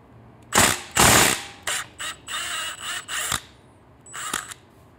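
A ratchet drives a 16mm socket on the exhaust nut of a Triumph Street Twin during a drag pipe install, giving several short bursts of crisp clicking separated by pauses, close and loud.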